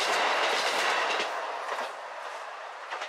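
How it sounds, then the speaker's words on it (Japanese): A JR Hokkaido KiHa 54 diesel railcar, a local train bound for Nemuro on the Hanasaki Line, rolls past a level crossing. It begins loud and close, with rhythmic wheel clatter fading as it moves away. "根室行き普通列車を見送ります。"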